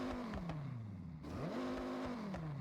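A Dodge Ram SRT-10 pickup with an 8.4-liter V10 revs in Forza Horizon, its engine note dropping, pausing briefly, then climbing sharply again in a steady, loud drone.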